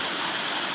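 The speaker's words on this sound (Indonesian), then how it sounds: "di sini gua di air ini dengerin suara Curug kayak gitu ya. air jatuh." Water falls steadily at the Curug Hiji waterfall, a dense, constant hiss and rush that fills the whole moment with no pauses or voices.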